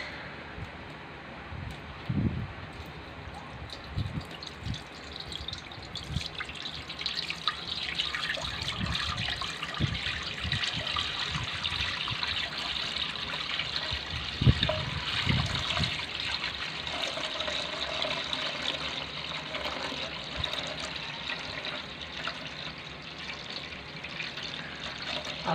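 Grape must, boiled a day earlier and left to settle, being slowly strained for grape molasses, a steady close trickle and pour of liquid that keeps running throughout.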